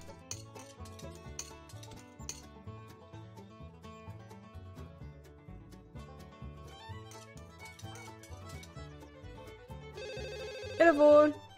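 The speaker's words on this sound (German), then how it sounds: "Telefon!" Telephone ringing in The Sims: a bright electronic ring bursts in near the end over steady game music, brief and fairly loud.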